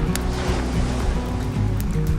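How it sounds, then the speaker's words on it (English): Crashing ocean waves roll steadily at close range, a continuous broad wash of surf that stays loud for the whole stretch, with background music running underneath and no voices. "the sound of crashing waves just makes everything perfect"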